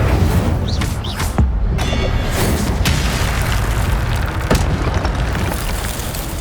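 Fire spell burst in the Hogwarts Legacy video game during a fight: a dense, roaring blast with booming impacts over a loud, continuous crackling wash.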